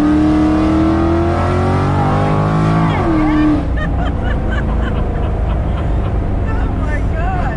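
A Pontiac Trans Am accelerating hard with tires spinning, its engine roaring loud and close with rising revs, a shift, then continued throaty acceleration; people talk over it.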